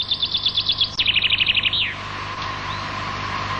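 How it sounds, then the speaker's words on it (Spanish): Wild finches sing a rapid trilled phrase of repeated bright notes that ends in a short flourish, fairly close over a steady low background hum, followed by quieter ambience. "cantaban con la misma música que los pinzones silvestres"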